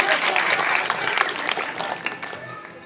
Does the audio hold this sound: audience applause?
yes